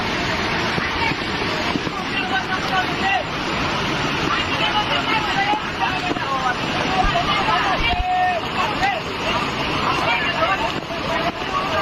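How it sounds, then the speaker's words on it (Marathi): Floodwater pouring forcefully during monsoon rains near a stranded village, a loud, continuous roaring rush with wind buffeting the microphone and people talking over it. "भरपूर पाण्याचा ताकदीने पाणी पडू राहिलं खालून"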